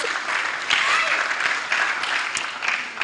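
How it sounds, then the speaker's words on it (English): Audience at an annual general meeting claps together in a dense, steady burst of applause lasting a few seconds, fairly close and even in loudness, with light voices mixed in. "Alright, let's clap for ourselves."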